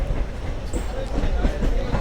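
A local commuter train running from Delhi toward Gurugram, heard from inside as a heavy, close low rumble with rhythmic wheel clatter and rattling carriage noise.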